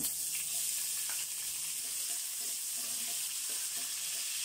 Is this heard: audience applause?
no